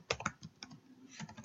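Quick bursts of keystrokes on a computer keyboard, typing a search into Google, close and quiet, in two uneven clusters separated by a short pause, with no voices.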